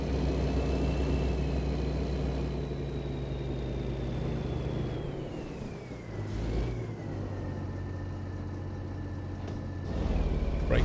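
Truck air brakes in a trucking simulator on Oregon roads: a steady engine drone with shifting tone runs throughout, and short hissing bursts of brake air release cut in near the middle and end.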